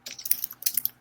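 Rapid typing on a computer keyboard, a close, uneven patter of light key clicks in two quick bursts.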